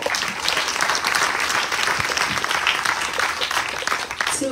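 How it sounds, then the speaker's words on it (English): An audience at a Ganesh Chaturthi festival gathering claps loudly and steadily, a close, dense round of applause with a few scattered voices mixed in. "Another round of applause"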